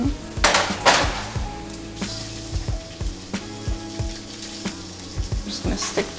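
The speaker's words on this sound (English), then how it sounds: "I'm gonna throw the tofu in here" Tofu sizzles in a hot skillet as a utensil clatters and stirs it, with sharp metallic taps over a steady frying hiss, close and fairly loud.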